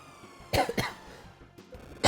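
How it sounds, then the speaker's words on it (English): A person coughs twice in quick succession, close and sharp, then after a short pause begins another harsh cough; no talking. "I looked down to cough."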